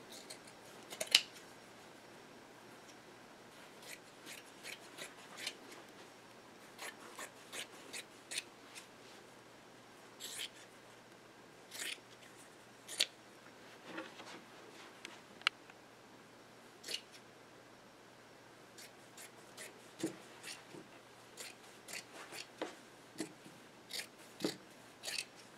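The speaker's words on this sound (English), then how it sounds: "We're going to actually cut this shirt apart." Scissors cut through a cotton T-shirt, giving a long series of close, crisp snips at irregular intervals with quiet rustling of fabric in between.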